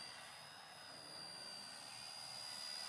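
An EC-145 Airbus scale RC helicopter flies in to land outdoors in wind, a steady high-pitched turbine-like whine with broadband rotor rush holding level throughout, moderately distant and without talk.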